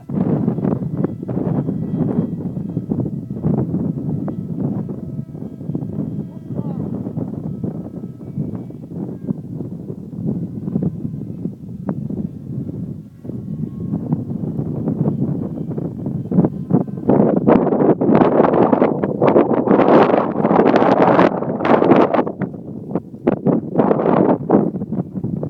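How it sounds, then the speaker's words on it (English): Strong gusty wind buffets the microphone on a windy day out flying a Hobbyking Bixler model plane, a constant low roar that swells into louder, harsher blasts in the second half, with no one talking. "probably got about, I don't know, 50-kilometer gusts today"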